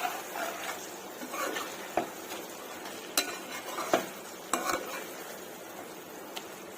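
A spoon stirs chicken curry with curry leaves and slit green chilies in a pan, scraping and clinking against the metal in irregular strokes over a soft steady sizzle.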